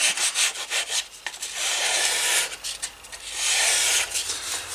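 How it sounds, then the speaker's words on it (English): Leather edges of a Field Notes book cover being sanded by hand, rhythmic close scratchy rubbing strokes in bursts and longer sustained passes, loud with no talking. "I'll sand everything, get it looking decent, then I'll burnish it."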